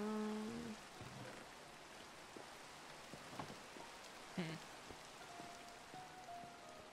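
Steady rain in a video game hisses throughout at low volume, with a few brief clicks and tones layered on top.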